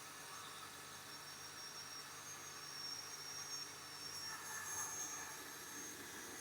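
A Ryobi cordless drill runs continuously on battery power during a run-down test, producing a steady, even whine that holds without pause for several seconds, with no talk over it.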